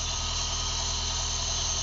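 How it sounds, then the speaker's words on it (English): An Opel Corsa B with a 13 NE engine idles slightly high, a steady, continuous hum and hiss with a faint regular low pulse, close and unchanging. "She is stabilizing right now. I am idling a bit higher than normal."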